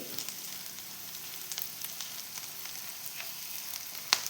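Green chilies fry in a pan for potato vada, giving off a soft, steady sizzle scattered with small crackling pops and one sharper spit near the end.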